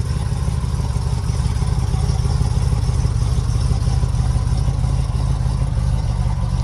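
An all-original, never-restored vintage Dodge with factory side exit exhaust and short tailpipes runs steadily at idle, a loud, close, continuous engine rumble with a faint clattering texture and no talk.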